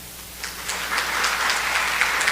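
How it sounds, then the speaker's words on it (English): An audience at a ceremony claps, the applause starting thin and swelling into a steady, fairly close wash of hand claps. "Let's give them a well-earned applause."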